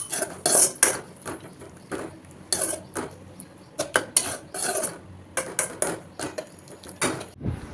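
A metal spoon stirs ginger garlic paste in a cooking pan, making repeated clinks and scrapes against the pan in an irregular rhythm, close by with no talking.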